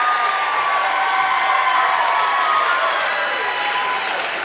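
A crowd at a high school boys' basketball game between Tippecanoe Valley and LaVille cheers and applauds after a free throw, a loud, dense roar of voices that stays strong throughout.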